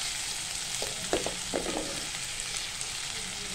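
Onions sizzle steadily in hot oil in a pan for chicken keema pav, with a continuous close frying hiss and a few stirring scrapes in the middle.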